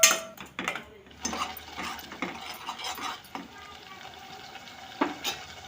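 Spatula stirring ginger-garlic paste into onion paste in a pan for an Andhra-style prawn egg curry, with a steady soft sizzle and repeated scraping strokes that rise and fall close by.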